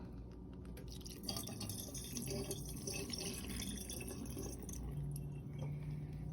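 Vinegar poured out of a container, the one holding an egg in a naked-egg experiment, makes a continuous trickling, splashing stream at moderate loudness, with no voices, across the whole stretch.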